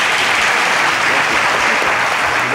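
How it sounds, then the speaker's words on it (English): A studio audience applauds a guest on a talk show, a loud, thick wash of many hands clapping that holds evenly from start to finish with no voices rising above it. "A round of applause for him"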